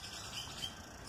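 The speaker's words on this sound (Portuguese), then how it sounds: "Os passarinhos ficam loucos." Faint, high chirps from small birds over a quiet background, soft and a little distant.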